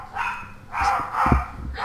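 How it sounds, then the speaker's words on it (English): Dogs bark in a video game, a few short yaps and woofs spaced across the moment over a steady game soundscape, moderately loud and with no talk. "Dogs are barking."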